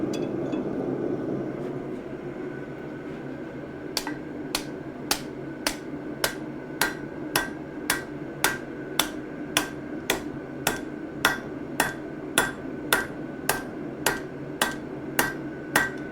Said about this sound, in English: any surface on the anvil can be used to hammer metal on